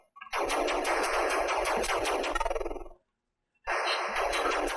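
Rapid electronic shooting and explosion effects from the 1982 Atari 2600 game Space Jockey, a dense burst of rattling blasts that stops abruptly, falls silent, then resumes loud and close.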